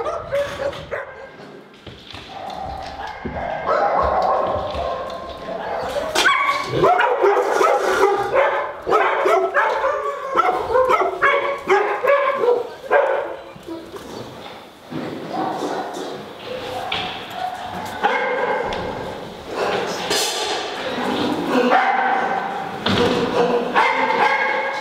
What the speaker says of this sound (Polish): Psy okazują swoją radość poprzez intensywne szczekanie, merdanie ogonami oraz podskoki.